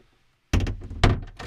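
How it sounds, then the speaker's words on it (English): A small door aboard a Mikkel 30 sailboat is pulled shut on the cramped toilet compartment, giving a close wooden thunk followed by rattling knocks as it settles and latches. "I can even close the door."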